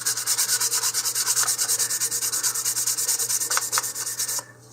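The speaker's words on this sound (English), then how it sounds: "I'm going to use 220 grit sandpaper." Rhythmic back-and-forth strokes of 220 grit sandpaper sanding plastic modeling putty on a model rocket nose cone, steady and close, ending abruptly near the end.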